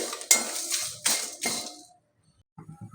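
A metal utensil scrapes and clinks against a karahi as spices go in for a chicken and pui stalk dish, three sharp close clatters, then quiet and soft shuffling.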